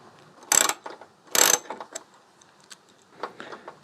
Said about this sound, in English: I think it'd be easier just to take off this 10 millimeter right here.